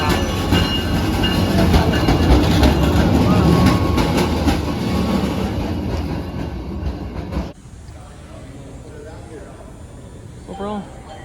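A PATCO Speedline train to Trenton arrives with a loud, close rumble and rattling wheels that fill most of the clip. It cuts off sharply, leaving quieter platform ambience with a voice talking.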